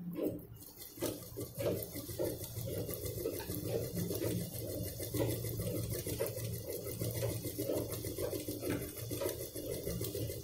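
Separate cloth pieces are stitched together on a sewing machine, which runs in a steady continuous hum with a fast rhythmic needle patter throughout.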